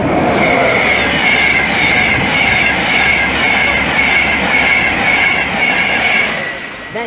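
An InterCity 225 train set passing at speed on the East Coast Main Line at Peterborough, a Virgin Trains East Coast service from London King's Cross to Leeds. The roar is loud and close, with a steady wheel squeal, easing slightly at the end.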